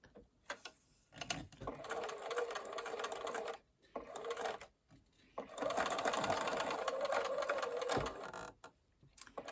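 A sewing machine stitches fabric in several short bursts of steady, fast mechanical whirring, separated by brief pauses, heard close up at low volume.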